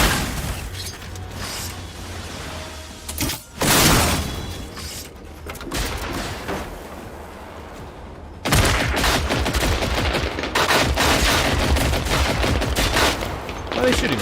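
Gunfire rattles through a tense firefight in Generation Zero, with sharp bursts and booms near the middle and dense continuous shooting and mechanical clatter over the last few seconds.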